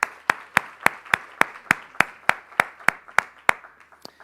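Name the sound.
audience applause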